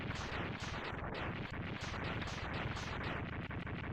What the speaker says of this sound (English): he crashes into Zero, leaving him with 1 health, and explodes